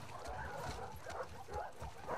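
Several short dog barks and yips from dogs in The Last of Us Part II, fairly close, over a busy background of game noise and murmuring voices.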